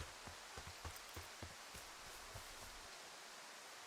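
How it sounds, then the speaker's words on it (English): Soft rain-like ambient patter fills a Firewatch game forest scene, a continuous hiss of fine drops with scattered brief rustling taps, fairly faint and easing off toward the end. "Why again it sounds like it's a rain?"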